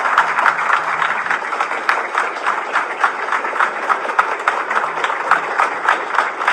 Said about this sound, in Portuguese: peço a todos os prefeitos do Tocantins que se levantem e deem uma salva de palmas a esses homens e essas mulheres